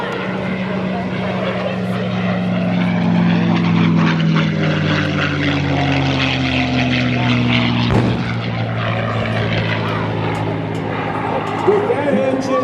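A P-51 Mustang propeller fighter flies past at the 2024 First State Airshow, its loud, steady engine drone swelling and shifting in pitch as it passes, continuous throughout with crowd noise beneath.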